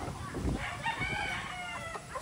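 Chickens cluck and a rooster crows faintly in the distance amid rural outdoor ambience in Cavite, Philippines.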